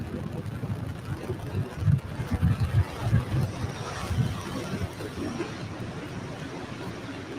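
SpaceX Falcon 9 first-stage engines roar during launch ascent on the FRAM2 crewed mission, a low, rumbling, crackling thunder heard from a distance with wind noise, swelling then easing off.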